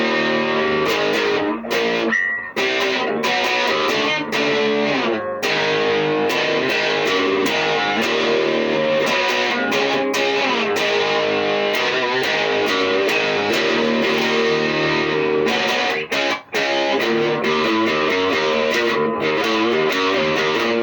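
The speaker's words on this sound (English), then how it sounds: "But then you kick the tube screamer on in front of it, i.e. before it, and it's suddenly a crunched fucking distortion." Electric guitar through a Tube Screamer pedal stacked in front of an amp, a thick, crunchy distorted tone playing continuous chords and riffs, loud and sustained with only brief gaps, with no talking over it.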